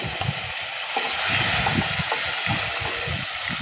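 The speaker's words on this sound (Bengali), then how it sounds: "আলুটাকে লাল লাল করে কষা কষা করে ভেজে নেব।" Potato pieces fry in hot oil with cumin seeds for a rui fish and raw banana curry, giving a loud, steady close-up hiss broken by a quick run of soft low thumps.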